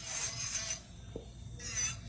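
A file rasps across acrylic nails in smooth back-and-forth strokes, a close scratchy sound in several passes with a short pause in the middle and no talking.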